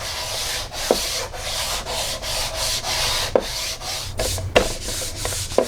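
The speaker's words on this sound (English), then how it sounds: "So I'll just kind of keep sanding there very lightly, see if I can remove the guide coat without going down too far" A sanding block rubs lightly over guide coat on a fiberglass front panel of a C4 Corvette under collision repair. Back-and-forth strokes rasp in a steady rhythm, close and continuous, with a few sharper scuffs.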